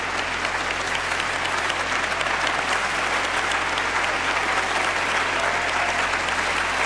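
A gospel concert audience applauds a new young musician being introduced, steady dense clapping filling the hall throughout at a constant loud level.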